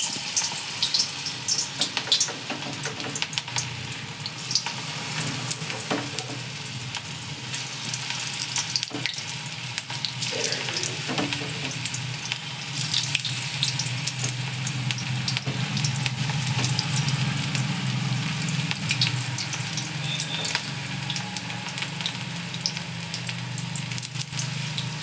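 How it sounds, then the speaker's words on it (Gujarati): Cabbage manchurian balls deep-fry in hot oil with a continuous bubbling sizzle, punctuated by occasional clinks and stirring sounds, close up and with no one speaking. "આવી ગયું છે એટલે આપણે બોલ્સ બધા તળવા નાખી દઈશું."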